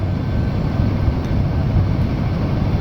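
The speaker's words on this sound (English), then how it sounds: "The aircraft is accelerating down the runway 23 and it is performing all well" A Boeing 787-8 Dreamliner, fully loaded with fuel and passengers, accelerating down runway 23 on takeoff roll, a loud continuous broadband engine roar, steady and unbroken throughout.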